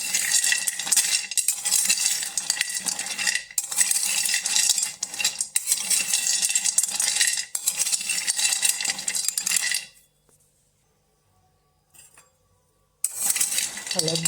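Turmeric dry-roasting in a kadhai, stirred continuously with close, gritty scraping and clinking for about ten seconds, then near silence before the stirring resumes briefly.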